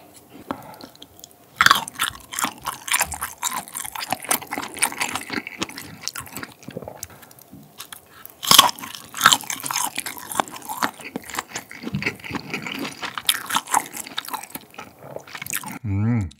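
Boiled Pororo sausage chewed up close during a mukbang, with soft, moist squishy bites and occasional louder crunchy bursts repeating across the clip; no talking.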